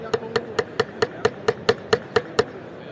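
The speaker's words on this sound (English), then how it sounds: "So look, we can basically hammer this stuff in." Small hammers strike nails into 3D printed material at a trade show, eleven sharp, evenly spaced taps in a steady rhythm, close and clear with no talk over them.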